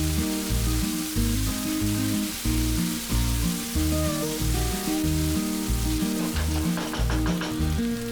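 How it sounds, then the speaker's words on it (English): Onions, green chilies and ginger garlic paste frying in a pan give a steady, loud sizzle with occasional stirring scrapes, no voices. "Then add 2 tablespoons ginger garlic paste and fry it for a minute."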